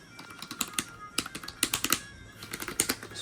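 Keys clack on a Windows 11 membrane keyboard found at a thrift store, a close run of uneven taps in irregular bursts with short pauses, no talking.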